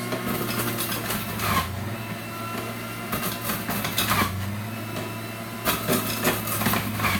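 A household juicer runs steadily while pressing grapes, a constant mechanical whir with grinding, crunching bursts at intervals, loud and near, no one talking.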